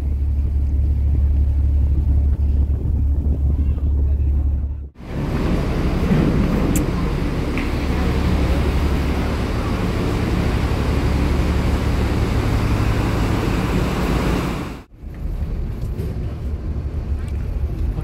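An executive ferry crossing the sea toward Bakauheni port gives a steady low engine rumble mixed with heavy wind buffeting on the microphone, continuous and close, briefly broken by two short dropouts.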